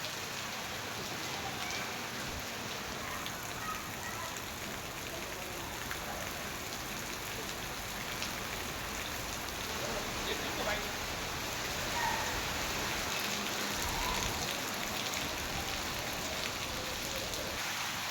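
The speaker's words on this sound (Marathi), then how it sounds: "संध्याकाळपासून मुसळधार पावसाने हजेरी लावली असून वातावरणात गारवा निर्माण झाला आहे" Heavy rain pours steadily in Igatpuri during the monsoon evening, a dense, continuous hiss of drops on surfaces that holds at an even level throughout, close and enveloping.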